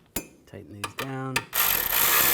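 A ratchet tightening caliper bracket bolts on a BMW X3, several short clicking pawl bursts with rising ratcheting patterns, close and clear, ending in a sustained rough rubbing hiss.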